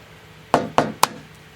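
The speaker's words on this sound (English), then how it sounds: "We're just gonna crack one of these open and see if we can't peel it." A smoked hard-boiled egg, cooked on a pellet grill, gets its shell cracked with three quick, sharp, close taps against a hard surface, evenly spaced, then quiet.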